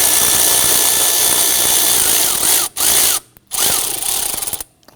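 Power tool spinning a socket to loosen the starter nut on a 2011-2015 Kia Sorento, a loud, steady high-pitched whirring with two brief cutoffs before it stops, close up and without talk.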